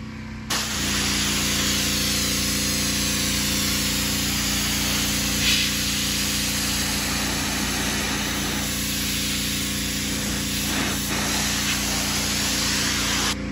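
A pressure washer sprays water steadily across teak outdoor furniture, a loud continuous hiss over a droning motor hum. The sound stays close and unbroken throughout, with only slight shifts in texture as the spray moves back and forth over the wood.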